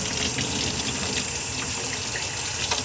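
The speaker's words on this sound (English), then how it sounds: "We're gonna take hot water, rinse all that cleaning solution off of it." Hot water gushes steadily from a laundry sink tap, rinsing cleaning solution off a New Haven 30-hour clock movement, a loud, continuous rushing splash with no talk.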